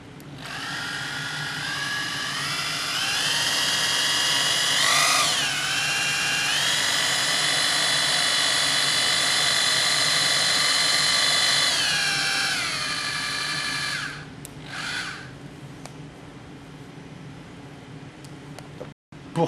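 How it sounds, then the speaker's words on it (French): An electric pipe bender whines loudly while bending copper tube to 90 degrees, with its motor pitch rising and then holding steady for about fourteen seconds before stopping. A few short whirs and clicks follow. "Puis je vais, à l'aide de la gâchette, cintrer pour amener l'angle de la glissière en face de 90 degrés."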